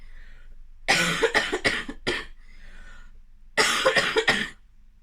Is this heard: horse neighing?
no